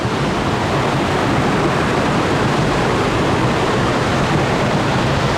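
A constant, loud rush of falling water fills the space, broad and steady with no pauses.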